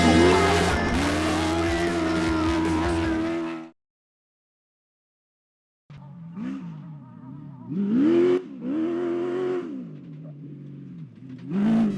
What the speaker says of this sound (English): the revs rise and the dirt flies as we go racing on round 2 of the ARB Australian Off-Road Racing Series